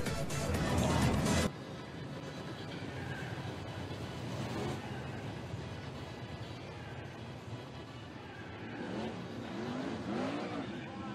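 Sprint cars race around a speedway during a feature event. A loud burst of engine roar opens, then a steady blend of distant engines rises and falls as cars circle the track, with faint talk mixed in.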